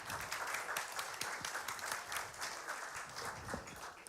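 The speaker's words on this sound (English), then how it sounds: "please give her a round of applause" Audience applause at a pitch and grant competition welcomes a presenter, a quiet but continuous patter of many hands clapping, heard from a distance with a few sharper claps and faint murmurs mixed in.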